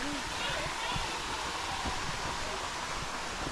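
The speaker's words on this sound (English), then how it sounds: "Oh yeah, there's a waterfall." A waterfall on Maui roars as a steady, dense broadband rush that fills the whole clip at close range, with no pauses in the flow.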